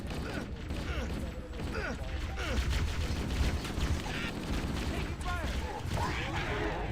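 Grenade blasts and gunfire in the video game Halo CE on Legendary difficulty, a dense continuous clatter of game combat with scattered sharp bursts and mechanical noises, and a voice talking over part of it.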